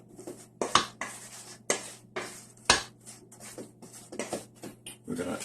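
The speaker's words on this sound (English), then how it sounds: "And we're going to mix all that in. Just kind of mix it real thoroughly." Spoon or utensil scrapes and clinks in a bowl as vegetables are worked into a triggerfish cake mixture, irregular stirring strokes repeating close by.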